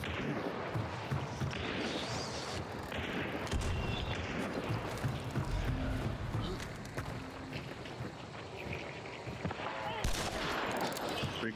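Gunfire in the multiplayer shooter Hunt: Showdown, a dense, continuous barrage of shots and explosive bursts heard loud and close, with someone talking over the action throughout.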